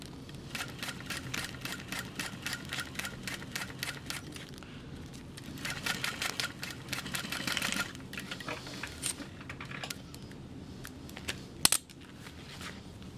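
A sewing machine stitches binding on a stadium bag in quick, even bursts of rapid mechanical ticking, with short pauses between runs, heard up close and fairly quiet.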